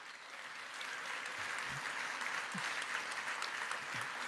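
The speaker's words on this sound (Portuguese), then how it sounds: "Ele estava sendo aplaudido por 530 governadores" Applause for a speaker addressing hundreds of Rotary governors, heard from a video playing in a hall, a broad wash of many hands clapping at low volume, steady and without voices.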